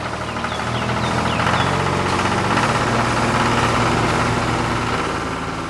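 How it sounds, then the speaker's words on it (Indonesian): Engine of a green crawler rice planting machine running steadily, a loud continuous rumbling drone with a knocking, vibrating texture and no pauses. "Mesin hijau itu melaju dengan cepat melintasi medan berbatu."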